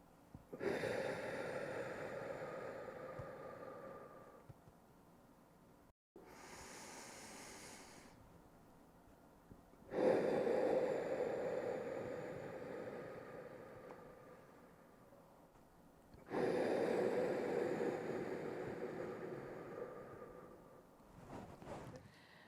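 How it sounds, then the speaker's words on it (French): Three long, deep breaths taken slowly during an indoor mindfulness exercise, each a loud, airy inhale and exhale heard close to the microphone, separated by brief pauses, with no talking. "on commence par les 3 grandes respirations et c'est parti"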